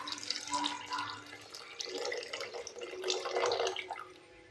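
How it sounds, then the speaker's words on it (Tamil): Tamarind water poured into a fish gravy, a continuous liquid splashing and trickling that runs steadily for several seconds at close range with no talking. "அடுத்து நம்ம புளித்தண்ணி ஆட் பண்ணிக்கலாம்."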